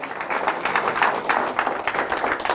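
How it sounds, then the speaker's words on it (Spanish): Church congregation applauding during a service, with a steady, moderately loud wash of clapping that holds for a couple of seconds. "Démosle un buen aplauso al Señor."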